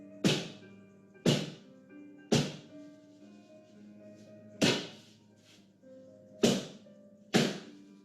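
A pan of batter banged down on a counter to flatten it and knock out air pockets, six sharp, loud metallic thuds at uneven intervals, each followed by a short ringing decay.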